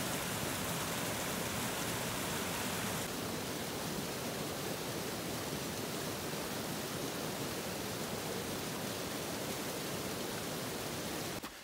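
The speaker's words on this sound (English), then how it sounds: "And here's the other waterfall I remember." A small waterfall about ten feet tall on the Manistee River trail pours with a steady, unbroken rushing hiss, even and constant throughout.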